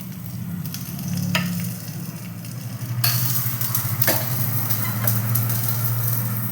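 Mustard seeds fried in oil as a tempering for a fresh mackerel fish curry sizzle close up in a steady hiss, with sharp pops and crackles scattered throughout.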